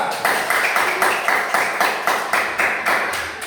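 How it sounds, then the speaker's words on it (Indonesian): Classroom group clapping for a presenting team, a loud, tightly synchronized rhythmic clap repeating about every third of a second, steady and close throughout. "Oke, tepuk tangan untuk kelompok 2"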